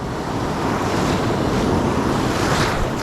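Ocean surf breaks and washes onto a San Diego beach, a loud continuous rush of waves with wind buffeting the microphone and no voices.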